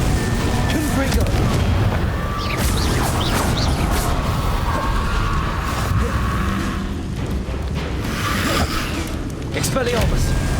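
Confringo fire spells cast in the video game Hogwarts Legacy, a dense run of booming blasts and crackling impacts over a constant rumbling game backdrop, with a voice calling out spell names between the hits.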